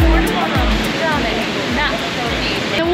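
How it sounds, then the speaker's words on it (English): A jungle waterfall roars in a loud, continuous broadband rush close by, with voices talking intermittently over the falling water. "first experience at a waterfall"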